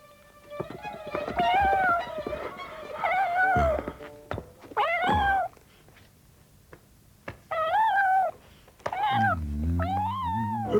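A kitten meows repeatedly, a string of high, drawn-out mews with short pauses, the last ones dropping into a lower, grumbling cry.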